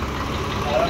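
A 2018 Mahindra Eicher 557 tractor engine idles close by, a brief, steady low rumble.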